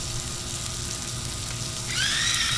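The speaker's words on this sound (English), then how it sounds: "Onions are down. You can hear the sizzle." Onions sizzling on a Blackstone 22-inch griddle give a steady, close hiss of frying that swells slightly louder toward the end, with no talk over it.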